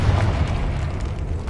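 Confringo fire-blast spell explosion in Hogwarts Legacy, a deep rumbling boom that holds loud and sustained, with no voices over it.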